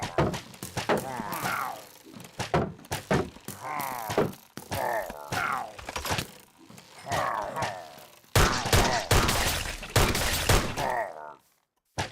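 Video game gunfire with rapid bursts of shots and heavy thunks in clustered volleys, close and loud, separated by brief gaps, with a groaning voice mixed in.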